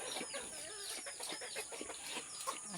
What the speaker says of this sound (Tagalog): Aking mga manok.